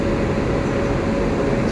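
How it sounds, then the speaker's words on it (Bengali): A South Central Railway WAP7 electric locomotive heads the Kaveri Express at Mysore, heard up close as a loud, steady droning hum of blowers and motors with no break. "এই ইঞ্জিনের আওয়াজে আমার কথা হয়তো শোনা যাবে না।"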